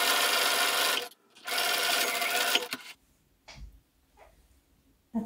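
A sewing machine stitches over the ribbon on a fabric face mask in two loud, sustained bursts of about a second each, with a short pause between them, followed by quieter handling sounds.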